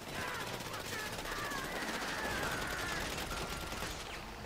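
Video-game gunfire crackles in rapid, dense bursts, faint and distant, running continuously for a few seconds.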